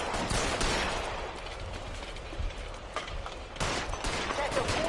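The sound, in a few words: gunfire in video game L.A. Noire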